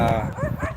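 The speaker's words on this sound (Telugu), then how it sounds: "కుక్కకి డౌట్ వచ్చి కుక్క అరుస్తుంది ఎవరబ్బా కొత్తగా వచ్చారు అని" A village dog barking at a newcomer, one loud close bark with a whining edge, rising and falling within a split second, no talk over it.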